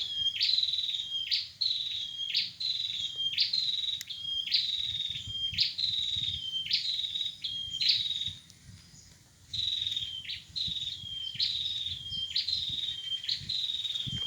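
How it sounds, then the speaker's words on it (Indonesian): A small prinia sings one quick chirping phrase again and again at a steady pace, fairly close, over a low background rumble beside a river. "Tuh ada suara burung perenjak tuh."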